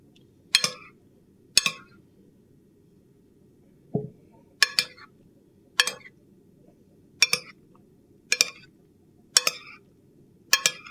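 Leftover grilled chicken penne with mushrooms being stirred in a dish: sharp metallic clinks of a utensil against the container, about nine separate taps at uneven intervals over a faint steady hum, with no talking.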